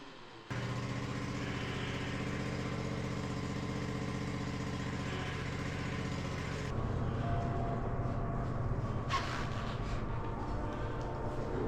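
Vevor electric hoist mounted on a garage ceiling, lifting the back of a Bobcat ZT2000 mower: a steady motor hum that runs alone for several seconds, then shifts to a rougher, lower drone.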